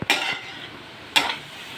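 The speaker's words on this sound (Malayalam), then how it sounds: "ഒരു പകുതി വേകുന്ന പരുവത്തിന് വഴറ്റിയെടുക്കാവേ" Two quick stirring scrapes of a spatula through vegetables sautéing in a pan for an egg curry, set over a soft continuous sizzle.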